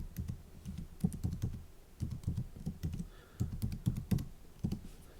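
Clicking computer keyboard keys as CSS styling code is typed, clusters of quick taps separated by brief pauses, close and moderately quiet with no talking.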